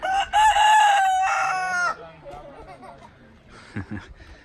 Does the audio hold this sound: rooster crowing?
yes